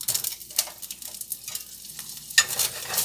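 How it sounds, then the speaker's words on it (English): About two tablespoons of flour stirred into a hot, sizzling pan to start a roux for a home-cooked dinner; steady close sizzle with scraping stir strokes throughout, no talking. "I'm going to put about 2 tablespoons in to make my roux"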